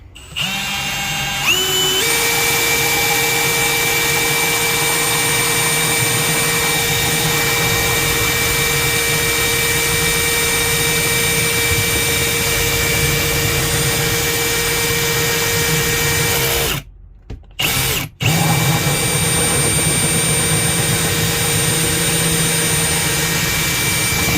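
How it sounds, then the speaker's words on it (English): A drill runs in a long, steady whine while pilot holes are bored into a plastic monotub for mushroom growing. It stays loud and continuous for about 16 seconds, then stops briefly and starts again. "Now we're going to do our pilot holes and then bring it back."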